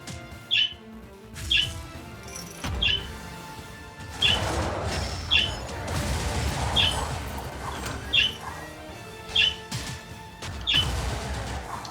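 Repeated bird squawks and chirps in the Wizard of Legend game, recurring every second or so over a busy layer of game music and effects.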